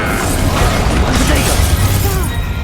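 Confringo and Incendio spell blasts go off in the video game Hogwarts Legacy. The effects are loud and dense, with rumbling bursts and whooshing magical crackle that run continuously over a busy game mix.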